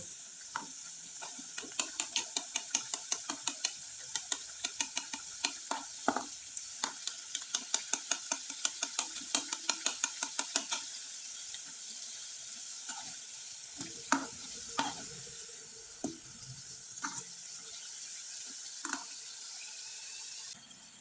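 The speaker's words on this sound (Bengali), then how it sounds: "পিঠাগুলো হালকা আছে একটু সময় নিয়ে একবারে মুসমুসে করে ভেজে নিলাম" Coconut pitha fries in a pan with a constant bright sizzle and a run of rhythmic stirring taps in the first half, then sparser knocks and scrapes over the continuing hiss.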